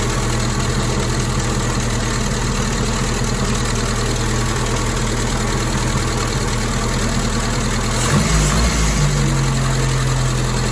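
A 1961 Triumph TR3A engine idles steadily and close by, its low rumble continuous, then a brief throttle blip near the end raises the pitch before it settles back to a slightly higher idle.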